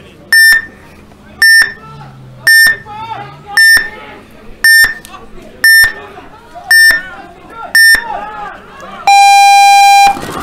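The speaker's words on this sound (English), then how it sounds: "There's your buzzer." A series of loud electronic beeps in a steady rhythm, nine short tones followed by a longer sustained buzzer blast, with crowd chatter between them, at a paintball tournament.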